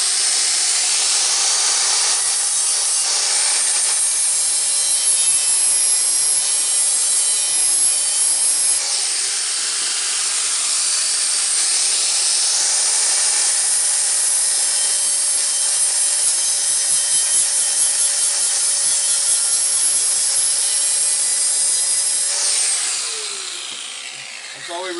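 Steady abrasive grinding on a broken metal dustpan, cleaning bare metal for a welding ground clamp, runs loud and continuous for most of the span, then trails off near the end.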